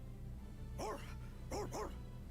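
A dog in the video game Tales of Vesperia gives three short barks, one then a quick pair, clear above a steady low game hum and music.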